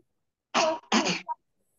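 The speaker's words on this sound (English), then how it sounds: "I'm coughing." Two or three throaty coughs in quick succession, close and fairly loud, followed by silence.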